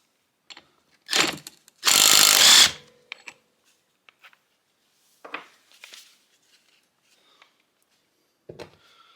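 Power tools removing the 14 mm flywheel nut from a 2012 Kawasaki KX250F engine during a teardown, with a loud impact-tool burst lasting under a second, then a longer burst of about a second, and then scattered clicks and clanks of tools.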